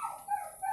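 A mixed-breed dog gives a short, close bark with a yipping edge, a couple of quick tonal bursts in under a second.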